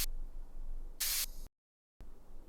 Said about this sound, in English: Then I have some white noise here at the bottom.